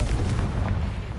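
The Confringo explosive spell bursts in Hogwarts Legacy as a dense, booming blast with deep low rumble, loud and close, lasting just over a second.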